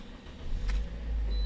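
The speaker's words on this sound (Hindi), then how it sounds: "गाड़ी को बंद करूँगा, एक दफ़ा फिर चालू करूँगा" A car engine turning over and restarting during a check for starting trouble linked to an ECU communication fault, its low rumble building and then settling into a steady idle close by.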